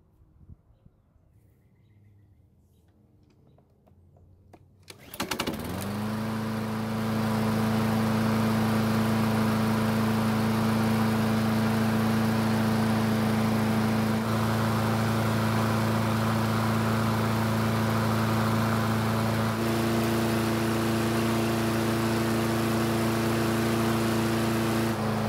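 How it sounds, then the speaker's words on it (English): A Craftsman lawn mower engine starts abruptly after a quiet few seconds, then runs at a loud, steady drone close by, its pitch stepping slightly up partway through. "I might as well run the engine until it gets hot, that way the oil will drain better."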